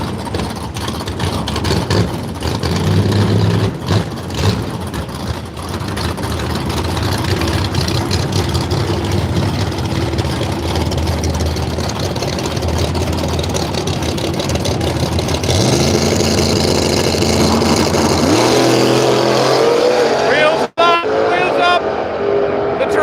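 Radial drag race cars rev and launch down the strip at Willowbank, Australia, with loud, rough engine roars building and surging, while a commentator talks over the noise throughout.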